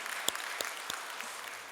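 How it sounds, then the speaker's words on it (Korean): A church congregation at a Sunday worship service applauds in welcome and blessing, with soft, steady clapping from a distance in a large hall and a few sharper claps standing out. "우리 모두를 환영하는 마음으로 감사와 축복의 박수를 올려주시면"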